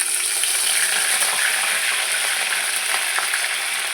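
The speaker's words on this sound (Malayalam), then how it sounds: "എണ്ണ നന്നായി ചൂടായതിലേക്ക് നമുക്ക് അരിഞ്ഞു വെച്ച കറിവേപ്പില" Curry leaves frying in well-heated oil for a fish curry, a steady close crackling sizzle with bright popping that runs unbroken throughout, no voices.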